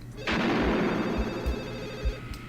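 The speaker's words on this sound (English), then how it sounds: "Woodsboro High School student Casey Becker answers the phone to a velvety, sexy voice." An old-style telephone bell rings in the horror film Scream, a loud, sustained metallic trill that begins abruptly after a brief pause and continues throughout, with faint low thuds beneath.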